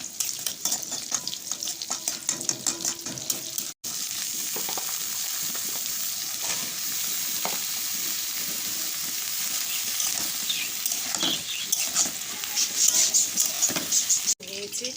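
Onion sizzles in hot oil with green chili and black cumin, producing a close, steady frying crackle broken by repeated scraping stirs of a spoon in the pan, with faint talk at moments.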